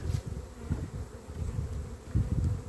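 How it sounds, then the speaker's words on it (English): Honeybees at a nuc hive make a steady, dense buzzing hum close by, with low droning swells and no speech. "The bees are kind of running around a bit."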